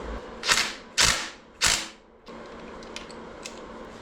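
Parts of a timing chain set sliding off the front of a Ford 460 big block V8 during teardown, with three sharp metallic scrapes and clanks followed by quieter light taps, all close and without speech.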